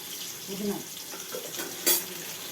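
Mint and coriander leaves being stirred and fried in a pan, giving a soft, faint sizzle with light stirring scrapes and one brief sharper clatter near the end.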